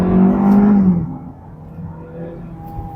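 A Hyundai Elantra GLS accelerates at full throttle, its engine droning loud and close with a rising pitch, then dropping abruptly around the one-second mark into a lower, steadier hum.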